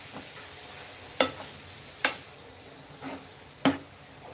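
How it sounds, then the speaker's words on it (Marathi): Fenugreek leaves sautéing in oil while being stirred, a low, quiet sizzle broken by four sharp scraping clicks of the spoon against the pan, spaced about a second apart. "मेथी पटकन सॉट होतात तेलामध्ये"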